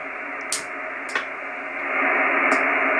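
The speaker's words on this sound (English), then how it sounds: "Just white noise." Steady hiss of white noise from a radio receiver with its noise blanker switched on, continuous and fairly loud, with a few brief clicks and a slight rise in level toward the end; no voices.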